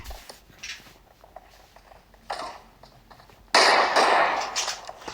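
Gunfire in the PUBG video game: scattered sharp shots at first, then a loud, dense burst of rapid fire fills the last seconds.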